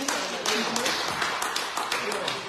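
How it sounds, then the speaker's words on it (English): An audience at a political town hall meeting claps for itself, a close, lively patter of many hands with some sharper individual claps, while voices speak over it. "so now we clap for ourselves"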